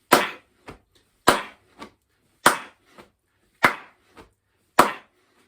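Snare drum sound performed in a music class, five strong sharp cracks each followed by a lighter tap, a steady marching rhythm heard up close without speech.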